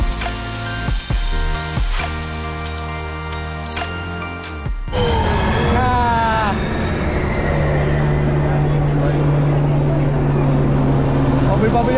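Formula E electric race cars at the 2022 Jakarta race pass by on track, their high electric whine sweeping up in pitch and fading as they go past, over a steady background of crowd and ambient noise.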